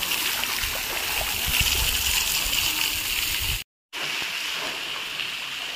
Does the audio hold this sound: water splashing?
yes